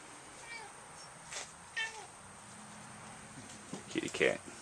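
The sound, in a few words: cat meowing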